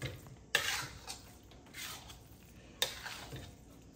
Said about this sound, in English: Just wanna make sure they're stirred and mixed really well